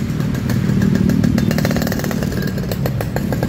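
A motorcycle engine, revved continuously and loud at close range on a late-afternoon street in Bandung, with a steady buzzing drone and no talk.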